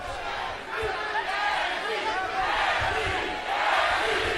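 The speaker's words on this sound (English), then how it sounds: "Crowd chanting for Tim Bradley." A boxing arena crowd chants for Tim Bradley during his fight with Jessie Vargas. Loud, rhythmic massed voices swell and dip in waves, with general crowd noise continuing underneath.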